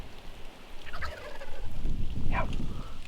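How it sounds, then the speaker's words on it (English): A wild turkey gobbles in the snow, two rattling gobbles at a distance near one second and near 2.4 seconds over low wind rumble, with no talking. "We got this bird hammering. I mean, he is gobbling his head off."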